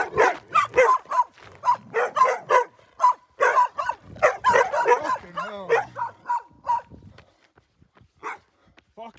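Several dogs bark and yip close by as a person walks past, a fast and loud run of barks with a few whimpers and overlapping voices, then trailing off toward the end.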